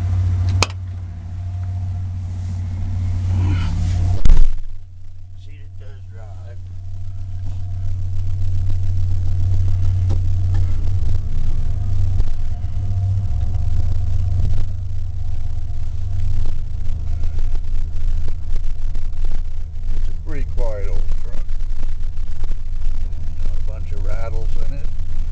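A 1993 Ford F150 XL pickup truck's engine running as it drives, a steady low rumbling drone lasting most of the stretch after an early thump, close and loud, with a person talking intermittently over it.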